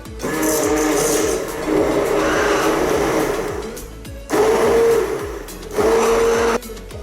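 A kitchen blender whirs loudly as it purées banana milkshake with honey, running in steady, close bursts with two brief pauses between them and no one talking.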